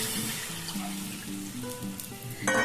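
Warm water poured into a hot pan of egg omelette curry, setting off a steady close hiss and sizzle that runs throughout, with faint stirring clinks near the end.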